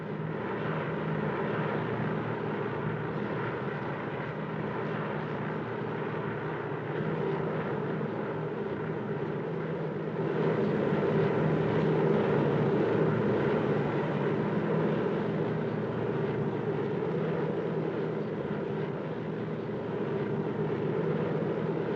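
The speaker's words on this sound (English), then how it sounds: "I'm somebody flying in a strange plane to a strange place with a lunatic pilot" A steady, droning airplane engine hums throughout a flight, heard from inside the cabin as a continuous broadband roar that swells slightly midway, with no talking.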